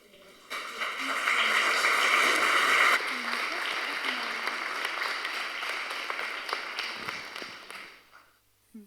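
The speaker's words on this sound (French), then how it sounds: "Un petit applaudissement" Audience applause at a conference on the energy transition, with dense clapping that swells and then tapers off over several seconds. Voices murmur underneath.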